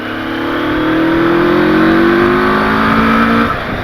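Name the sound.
motorcycle engine accelerating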